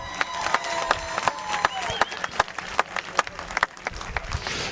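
Crowd applauding and cheering podium winner Laurent Fouquet at a motor race prize-giving in Saint-Georges-de-Montaigu, France: dense, steady clapping from a large audience with loud claps near at hand, sustained for several seconds with no speech.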